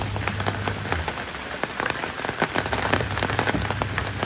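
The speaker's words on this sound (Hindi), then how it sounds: "इतने जोर की बारिश है।" Heavy rain pours down onto surfaces, a dense close patter of drops that stays steady throughout with no voices.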